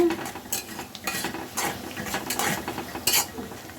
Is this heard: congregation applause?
no